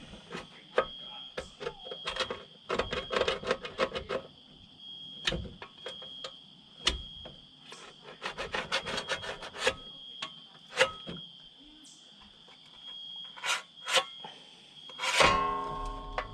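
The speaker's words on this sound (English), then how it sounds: "So I'll go along and scribe it" A tool scribes a line along GMC Sierra truck sheet metal during rocker panel and cab corner replacement, making intermittent scratchy rubbing strokes in short bursts with pauses, close up, no speech.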